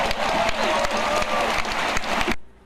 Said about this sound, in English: they clap and cheer for it